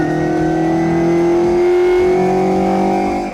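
A Classic Mini's small engine revs hard under acceleration, a loud steady buzzing drone that climbs slightly in pitch, heard from inside the car with no talk.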